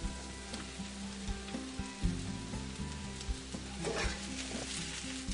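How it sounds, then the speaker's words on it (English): Garlic and mushrooms sauté in olive oil in a frying pan over medium heat, giving a steady close sizzle with crackly spatters and occasional scraping stir knocks, no talking. "Just saute the mixture for about 3 to 4 minutes until the mushrooms are wilted."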